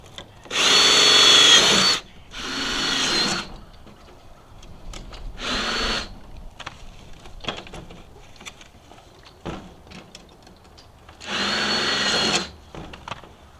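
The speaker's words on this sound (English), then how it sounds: "we're going to drill some holes along these edges where we're going to attach the wood so the screws go through easy" Power drill boring holes through the channels of a Harbor Freight greenhouse door, in three long loud bursts and a final one, with quieter handling clatter between them and no talk.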